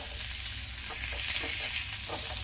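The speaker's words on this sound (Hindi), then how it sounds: "दोस्तों, इसे मैं 3-4 मिनट भून ली हूँ।" Potatoes with onions frying in a pan, a steady broadband sizzle with faint scraping stirs scattered through, constant and close with no voices.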